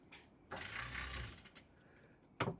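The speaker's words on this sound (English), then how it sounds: "one powered winch just here" Powered winch in the cockpit of a 2011 Dufour 405 GL sailboat, a short mechanical whirring and ratcheting burst followed by a couple of brief clicks, close and fairly quiet.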